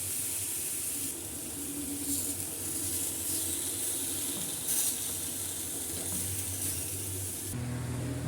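Potato slices fry in oil in a pan, giving a steady, close, moderately loud sizzle and hiss that runs without a break, with a brief shift near the end as the pan is handled.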